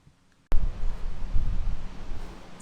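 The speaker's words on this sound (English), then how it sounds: "It's like really windy" Strong fall wind gusts buffet the microphone beside an RV after a brief silence, a loud rumbling roar that rises and falls unevenly.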